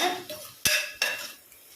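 A spoon scrapes and clinks against a metal pot of tomato pulao in a few quick strokes, close by, with short pauses between.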